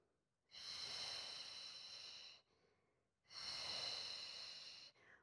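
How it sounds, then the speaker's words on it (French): Two long, close breaths during a mat exercise class, each a breathy rush lasting nearly two seconds and separated by a short pause, with no talking. "On inspire, on expire."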